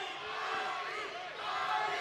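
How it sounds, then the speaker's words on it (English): A boxing arena crowd in Atlanta keeps up a sustained, blended roar of chanting and cheering for a fighter, fairly faint and distant, with no clear break. "You hear chants of Javi"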